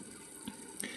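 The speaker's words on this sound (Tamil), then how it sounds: "தண்ணி தான் இன்னும் போயிட்டு இருக்குது, ஊற்றிட்டு இருக்குது." Water runs into the drum of a fully automatic top-load washing machine during the wash stage, a soft continuous rushing and trickling with faint splashes, heard alone and not very loud.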